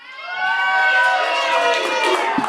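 A comedy club audience cheering and whooping, a dense crowd roar that swells quickly and holds steady, with shouts rising out of it.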